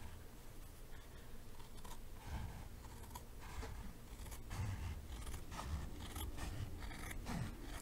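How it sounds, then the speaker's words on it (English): Leather-cutting scissors snip through a piece of leather while a walking stick is being made in a workshop, giving quiet, close, repeated crisp cuts in an irregular rhythm with no talking. "These are special leather cutting scissors."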